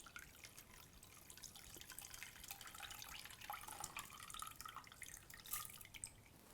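Rice being rinsed under running water in a kitchen: faint, steady trickling and dripping water with soft splashes, quiet and close, with no talk.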